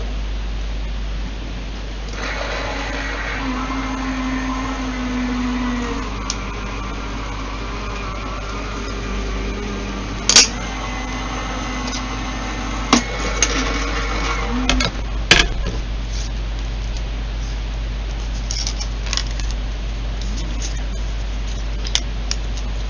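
A die-cutting craft machine runs with a steady low mechanical hum, feeding a Crafters Companion Bethlehem kit piece through, with a few sharp clicks and taps toward the end.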